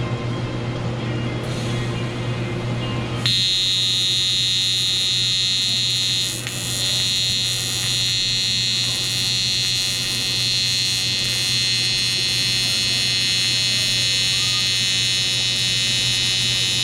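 A TIG welder runs a bead on aluminum using a gas lens and multi-mix shielding gas, a steady continuous buzzing hiss that starts abruptly and holds loud and even for the remainder, with no talking.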